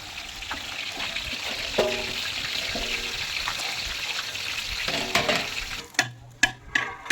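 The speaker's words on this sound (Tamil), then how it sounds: "அஞ்சு கிலோ வெங்காயம் போடுறோம் போடுங்க பாய்" Five kilos of onions dropped into hot oil and ghee for a large biryani batch, a loud steady sizzle with scraping stirs, quieting near the end into a few sharp clanks.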